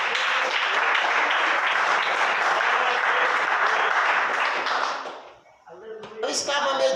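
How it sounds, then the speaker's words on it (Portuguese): A church congregation claps for Jesus in sustained, loud applause that fills the room, then briefly fades before a few scattered claps and taps pick up again at the end. "bater as palmas para Jesus."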